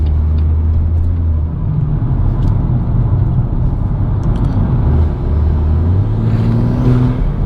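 A BMW M140i engine hums and rumbles steadily from inside the cabin, with low droning tones rising slightly as the car picks up speed near the end.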